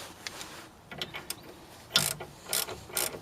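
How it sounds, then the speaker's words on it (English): A ratchet wrench turning on a rusted steering arm, bursts of rapid metallic clicking, close and fairly loud, growing more pronounced in the later strokes. "Good thing about a ratchet, you know when to tighten by flipping the switch over when it's upside down."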